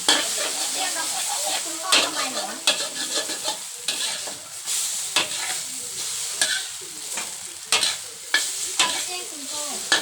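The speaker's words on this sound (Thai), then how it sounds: "ทอดไข่แป๊บเดียวแป๊บเดียว" Eggs for a Thai omelette fry in hot oil with a busy crackling sizzle, broken by frequent scraping and clattering strokes of a spatula in the pan, loud and close.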